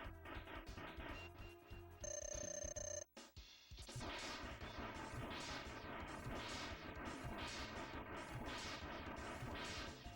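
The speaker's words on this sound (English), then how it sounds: "You just get straight to the ship explosion." Mega Man X video game ship explosion: dense, loud crackling blasts with a brief ringing tone, a sudden cut, then a continuous roaring barrage of rapid repeating explosion bursts.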